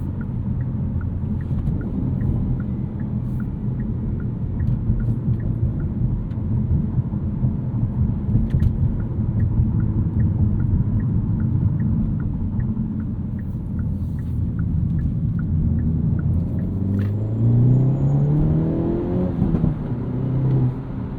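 A 2024 Hyundai Elantra N with a six-speed manual, heard from inside on a morning commute: a steady, loud engine and road rumble that climbs in pitch near the end as the car accelerates.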